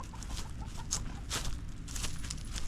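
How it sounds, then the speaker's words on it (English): Chickens clucking outdoors on a farm where red oak firewood is being split, a steady mix of soft, repeated clucks and squawks from several birds at moderate distance, with no talk. "Hey, go put the chickens away, Zeus."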